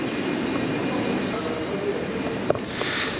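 A long sleeper train gives a steady, continuous rumble close by, with a sharp metallic clank partway through.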